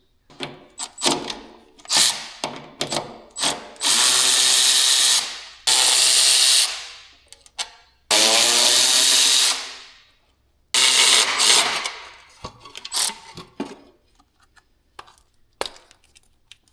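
Power tool loosening brake bolts on a shed trailer's Brake Rite system, sounding in short bursts and then several long whirring runs that wind down, with clanks and handling noises between.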